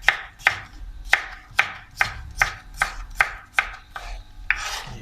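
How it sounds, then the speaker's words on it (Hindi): A knife chops through bell pepper (capsicum) on a board in about ten crisp, evenly spaced strokes. Each sharp cut lands close and clear, with no voices over it. "अब हम लेते हैं एक और शिमला मिर्च, ठीक है जी, इसको भी हम इसी तरह काट लेते हैं।"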